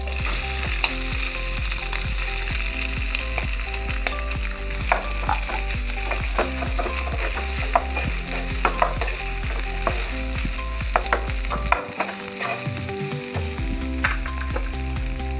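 Mashed potatoes with coriander seeds frying in a pan, giving a steady, loud sizzle with soft stirring scrapes throughout and no talking.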